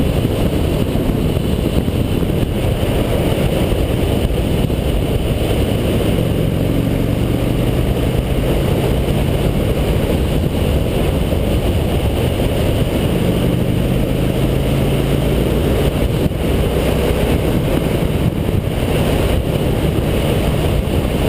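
A Honda VT750S motorcycle being ridden on the road, its engine a steady drone buried under constant loud wind buffeting on the microphone, with no talking.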